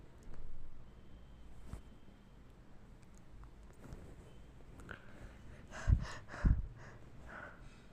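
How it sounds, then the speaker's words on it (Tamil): A person breathes heavily and out of breath after running, with soft panting at first, then two sharp, loud gasping breaths near the end, close to the microphone and with no talk. "எனக்கு மூச்சு வாங்குது மக்களே, இவனுக்கும் மூச்சு வாங்குது."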